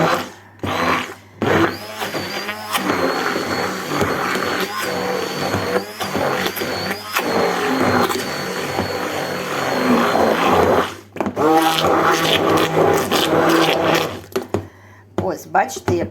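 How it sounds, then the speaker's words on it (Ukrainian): A blender whirs loudly and steadily for several seconds, blending cooked pumpkin and millet porridge, pausing briefly and starting again, with a bit of speech now and then around it. "Зараз я його переблендерю."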